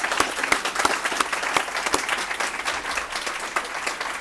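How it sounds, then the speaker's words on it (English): Guests at a university nursing school ribbon-cutting ceremony give a round of applause, a sustained clatter of many hands with a few crisp individual claps standing out near the front. "Please, a round of applause."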